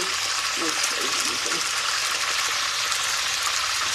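Steady, loud sizzling of pork chops flash frying in a hot pan, a continuous hiss with bubbling crackle throughout, and a voice talking faintly underneath.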